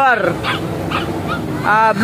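A dog yelps and whines in a few high, sharp bursts over busy background noise at a pigeon market, close by.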